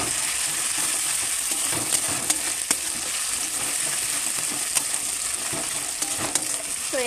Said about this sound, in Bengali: তো লঙ্কাটাকে ভালোভাবে আমরা ভেজে নেবো তেলে